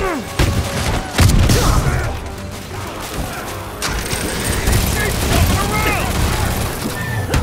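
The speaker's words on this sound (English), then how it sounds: "Grenade incoming!" Bursts of gunfire and blasts ring out in a Marvel's Spider-Man heist mission, loud, continuous and chaotic, with voices talking over the combat.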